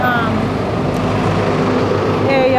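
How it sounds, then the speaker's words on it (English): Trucks rumble past outside during a live broadcast, a loud continuous low roar filling the whole stretch with no break. "these trucks are so annoying the way they drive by when we're doing the show"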